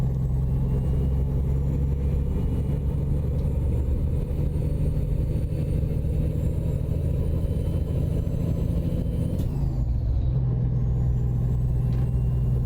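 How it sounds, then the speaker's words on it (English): A truck engine in American Truck Simulator drones steadily with a deep, constant rumble, then shifts in pitch near the end as it pulls away under acceleration, alone without talk. "Come on, get that truck into gear and hammer on the accelerator."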